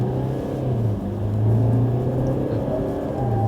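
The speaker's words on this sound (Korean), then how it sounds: "그냥 전형적인 디젤 엔진인데요" A diesel engine in a new Mercedes-Benz E-Class rumbles low and steady at idle, then the revs rise as it accelerates, heard from inside the car at moderate volume.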